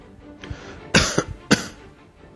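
A person imitates a tuberculosis-type cough, a light, mild choppy kind: two sharp, separated cough bursts with a smaller one between, close and fairly quiet, with faint breathing around them.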